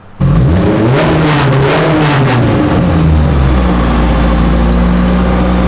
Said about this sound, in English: The turbo spool down sounds so good.